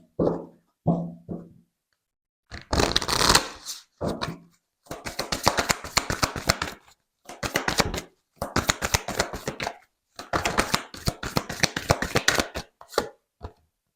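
Tarot cards being shuffled in quick, dense bursts of riffling and shuffling, several separate runs with short pauses between them, close and fairly quiet, with no voices.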